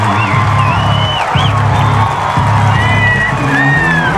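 A stadium crowd at Yount Stadium roars during a North Greenville vs. Delta State college football game: loud, dense, sustained cheering with whoops and shouts rising above the steady din.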